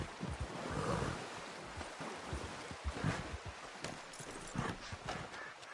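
Horse hooves clip-clop at a steady pace in Red Dead Redemption 2, a rhythmic run of close thuds over a soft, wash-like ambient background.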